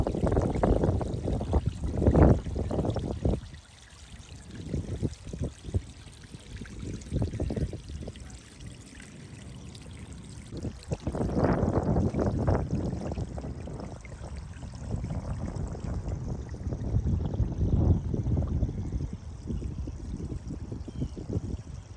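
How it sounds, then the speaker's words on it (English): Peaceful running water in a garden at the U.S. National Arboretum gives a steady, close rushing and pouring wash that swells and eases in waves, with no voices. "Just the sound of that peaceful running water."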